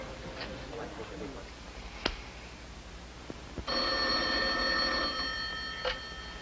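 A telephone rings in a radio crime drama, its steady electric bell trilling for a few seconds after some faint clicks and small sounds with voices nearby.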